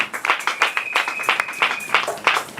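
A church congregation claps and cheers during a Sunday evangelical service, with uneven bursts of hand claps and a sustained whistle or high note running through the middle, fairly close and lively.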